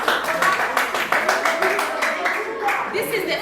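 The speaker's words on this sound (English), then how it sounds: "At the same time, can we clap for the boys?" Crowd applause for the boys' team at a Grade 9 school academic competition, steady rapid clapping for a few seconds with talking mixed in.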